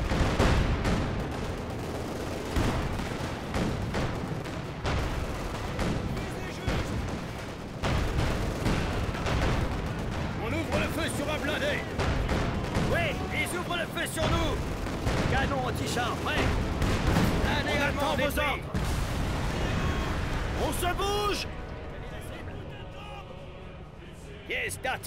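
Anti-tank gun and artillery fire in Company of Heroes 2 on the Eastern Front, with dense booming shots and blasts rolling almost continuously for about twenty seconds under radio-style voice chatter, thinning out near the end.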